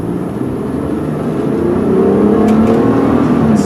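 A 2001 Hyundai Santa Fe GLS 2WD pulls away in first gear using the auto-stick shift, its engine note climbing steadily and growing louder from inside the cabin, with no talking.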